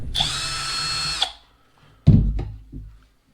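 Power driver backing out the receiver box screws on a Traxxas Summit RC truck, a short high whir of just over a second followed by a few clunks as parts are handled.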